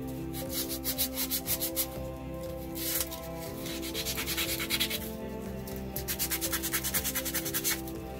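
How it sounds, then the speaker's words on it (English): Painted mini wooden tables being sanded by hand, a steady run of short rhythmic rubbing strokes with a gritty scrape, close and clear, pausing briefly midway before resuming in even bursts. "of course, sand them and get some of the color off"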